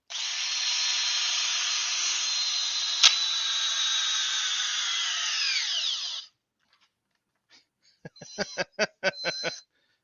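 A Ridgid Gen 2 subcompact cordless drill in drill mode whirs steadily at one speed for several seconds, then winds down, followed by a series of short clicking bursts.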